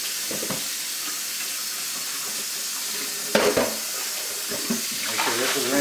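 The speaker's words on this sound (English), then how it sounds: "Now put some water in your paint can." Water runs from a tap into a paint can while brushes and rollers are being cleaned, a soft steady splashing hiss with a few louder sloshes and clunks partway through.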